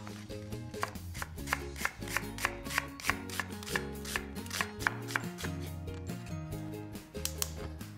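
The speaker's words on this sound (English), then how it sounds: "I need to thinly slice an onion" An onion thinly sliced on a board for a caramelized onion, arugula and brie tart, with quick, even knife chops repeating steadily over loud background music.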